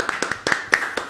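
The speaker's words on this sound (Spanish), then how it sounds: "presentamos con un aplauso al señor Ernesto Tenenbaum." Studio audience applause on a television talk show, heard as a short, sparse run of sharp, separate claps over about a second.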